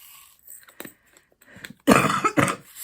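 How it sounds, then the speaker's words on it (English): Several harsh chesty coughs from a person with a lingering chest cough, two loud bursts close to the mic after a few quieter throat sounds, with no talking. "I still have this bloody cough."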